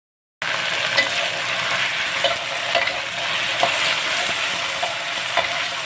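Food for apritada fries briefly in a pan, half-cooked. A steady close sizzle starts after a moment of silence, broken by occasional soft stirring taps.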